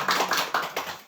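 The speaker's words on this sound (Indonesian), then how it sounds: "Tepuk tangan sama-sama." A few people clapping together in a small group, a short burst of several sharp, quick claps close by, with no talking.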